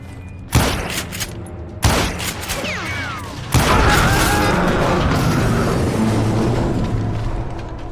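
Gunfire in the Western shooter Call of Juarez: Gunslinger on Nintendo Switch: two sharp, separate shots, then a loud, dense burst of rapid shooting that lasts to the end.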